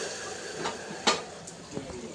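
Hot oil is poured over food, giving a soft, steady sizzle with one sharp burst near the middle and a few fainter spatters after it. The sound is close and there are no voices.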